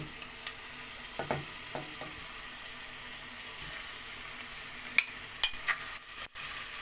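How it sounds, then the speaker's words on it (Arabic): Meat frying in a spoonful of Egyptian samna baladi ghee in a home kitchen gives a quiet, steady sizzle, broken by a few clinks and scrapes of stirring. "حطينا معلقه سمنه بلدي كده زي ما انتم شايفين، وهننزل عليها باللحمه"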